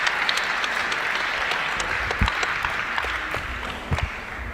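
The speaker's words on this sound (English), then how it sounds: "Everybody in the arena is on their feet applauding" Arena crowd in Sheffield applauding after a boxing bout at the World Boxing Cup GB Open, a steady dense wash of clapping and cheering filling the hall throughout.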